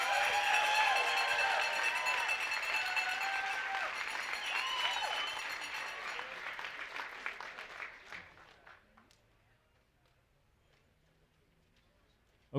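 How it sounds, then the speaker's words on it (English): An audience at the 2025 Western States awards ceremony claps warmly for the champions, steady applause that thins out and fades to silence by about nine seconds. "So let's give a big round of applause for Caleb Olson and Abby Hall, your 2025 Western States champions"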